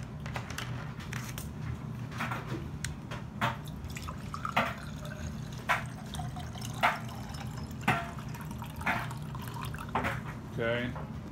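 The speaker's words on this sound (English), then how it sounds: "we want to dump our water in our container" Warm water is poured into a container for making mead from honey, water and yeast, producing a close trickling splash with scattered drips and small clinks throughout.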